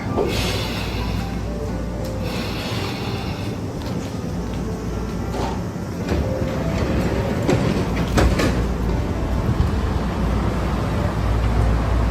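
Continuous rumbling and rattling from inside a moving Japanese train heading to Nagatoro, with clacks and metallic squeaks over a steady roar.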